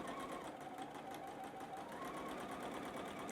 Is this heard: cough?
no